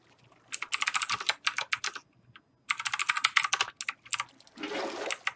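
Rapid keyboard clicking in bursts, then a short rushing splash of water near the end as a water bucket is placed in Minecraft.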